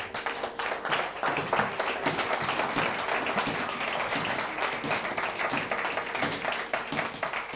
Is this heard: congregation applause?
yes